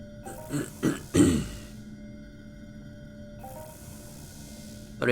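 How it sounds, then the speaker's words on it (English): A man clears his throat in three quick, raspy bursts near the start, followed by quiet room tone and a faint hum. "Sorry about clearing my throat."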